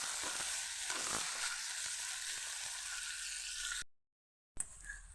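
Spices and onion fry in a pan for a neem-leaf dish, giving a steady, close sizzle that runs for several seconds, drops out briefly and then resumes faintly.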